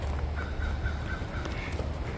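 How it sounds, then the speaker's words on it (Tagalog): A large bird calls repeatedly in short, evenly spaced cries, somewhat distant, over a low rumbling background, on a nature trail at Chesapeake Arboretum. "Narinig na ako ng ibon na malaki."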